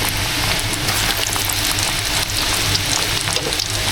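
Hot oil bubbles and crackles steadily in a pan, a dense continuous sizzle heard up close without any voices.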